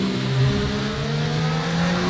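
Ferrari Formula 1 car engine in the F1 2019 racing video game, heard as a steady, buzzing drone with slight pitch wavers across a short stretch, continuous and up close.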